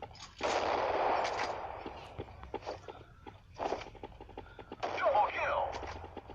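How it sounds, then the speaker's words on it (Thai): Bursts of gunfire in the game Crisis Action crack in short volleys and single shots, with talk and footsteps in between. "มันมีคนยิงแล้ว"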